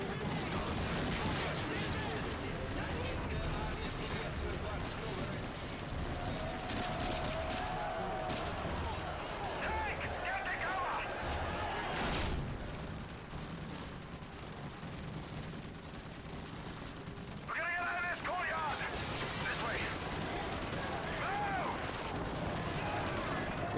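Heavy shooting and explosions in the Modern Warfare 3 campaign: a steady, dense barrage of gunshots and blasts throughout, fairly quiet in level, with voices talking over the combat.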